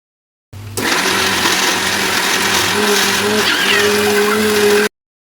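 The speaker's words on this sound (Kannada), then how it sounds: "ಮಿಕ್ಸಿ ಜಾರ್ಗೆ ಹಾಕಿ ಅದನ್ನು ಗ್ರೈಂಡ್ ಮಾಡ್ಕೊಳ್ಳಿಕ್ಕೆ ಬೇಕಾದಷ್ಟು ನೀರನ್ನು ಸೇರಿಸ್ಕೊಂಡು ಚೆನ್ನಾಗಿ ಗ್ರೈಂಡ್ ಮಾಡ್ಕೊಳ್ತಾ ಇದ್ದೀನಿ" A kitchen mixer grinder whirs loudly and steadily as it grinds masala with water in its jar. The motor starts abruptly, holds a constant tone with a faint pitch shift midway, then cuts off.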